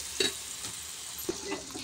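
Onion and chili paste sizzles and fries in hot tempering oil for a bitter gourd curry, a soft steady hiss broken by a few sharp stirring clicks and pops, with no talking.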